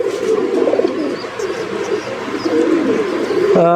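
A chorus of pigeons in an outdoor farm loft cage, including a breeding pair with a chick, gives a dense, continuous low cooing up close, with a louder coo near the end; no one talks.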